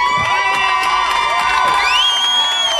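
Audience at a children's talent show in Sacramento cheers, whoops and shouts loudly and continuously, with high-pitched young voices rising above the crowd noise throughout.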